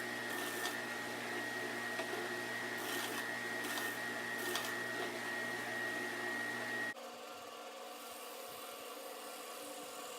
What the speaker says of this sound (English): just firing up the sander, getting it flat